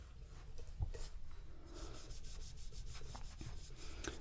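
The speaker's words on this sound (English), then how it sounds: "Polishing is generally not my jam." Soft, close rubbing and buffing on a metal mug, a steady faint friction sound with occasional brief scrapes and clicks, no voices.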